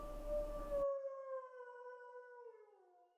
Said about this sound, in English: The howl of an animal. Sounds too high to be a dog.